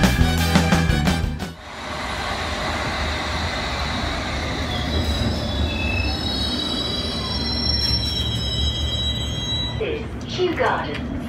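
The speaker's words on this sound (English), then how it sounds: "we're now going to take the train down to Richmond" A London train rumbles steadily along the rails toward Richmond, with high metallic wheel squeals drifting in and out, a voice briefly audible near the start.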